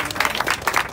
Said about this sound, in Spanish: Un aplauso, Juan Luis Barrios.